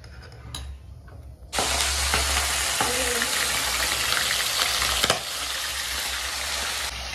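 Chicken dry fry sizzles in a hot pan, a steady loud hiss of frying oil with brief stirring scrapes, close up and continuous before suddenly dropping quieter near the end.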